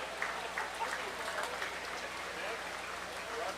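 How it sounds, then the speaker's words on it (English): A crowd at a county fair market beef show applauds exhibitors in the ring with steady, sustained clapping, heard from within the audience with some voices mixed in. "Let's give these exhibitors a round of applause."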